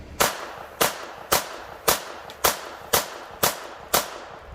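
Beretta M70 .32 caliber pistol firing at a range, eight sharp close shots in a steady rhythm about half a second apart, each cracking loudly with a brief echo tail.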